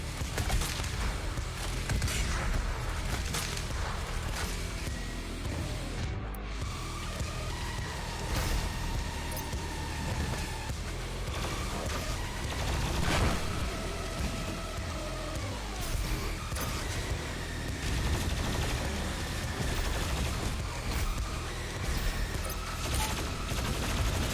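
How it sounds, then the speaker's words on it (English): Dense, continuous combat from the video game Doom Eternal, with a pump-action shotgun blasting amid heavy layered gunfire, explosions and roaring noise throughout, loud and unbroken with no clearly separated shots. "Pump action shotgun."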